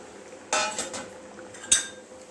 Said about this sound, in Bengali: তারপরে আমি এই যে ভেজিটেবলসটা এইটা এখানে অ্যাড করে দিচ্ছি।